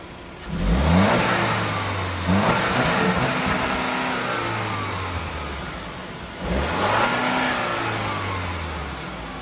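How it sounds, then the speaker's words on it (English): A 2022 Audi Q7 45 TFSI SUV engine revs up sharply twice, each burst rising in pitch and then settling back toward idle, close and fairly loud with no talking. "what the engine looks like when you're revving it up"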